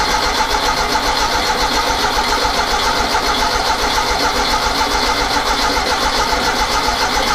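A 1975 VW 1600 dual port trike engine starts for its break-in run and settles into a steady, busy air-cooled idle, close and continuous without talk.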